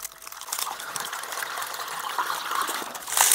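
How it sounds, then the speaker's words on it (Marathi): Water pouring from a pipe into a bottle that already holds petrol, a steady close gushing and trickling wash that swells louder near the end. "आपल्या पेट्रोलमध्ये आपण पाणी भरून घेणार आहे"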